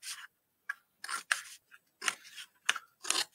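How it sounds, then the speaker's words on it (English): Sharp paper-cutting scissors snip along the sides of a paper gift bag in a run of crisp, close cuts, several quick bursts with short pauses between them and no talking. "paper cutting scissors that are nice and sharp, and we are going to cut up the sides here"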